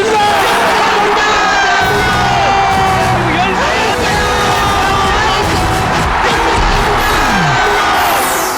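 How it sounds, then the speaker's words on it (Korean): A large baseball stadium crowd cheers and shouts at a loud, sustained level, with whoops and yells rising over a dense roar of voices. "그날 사람들은 오직 한 사람의 이름만을 외치고 있었다"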